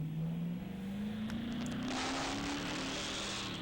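A car speeds through a residential neighborhood, its engine note climbing steadily as it accelerates, loud and close throughout with no voices.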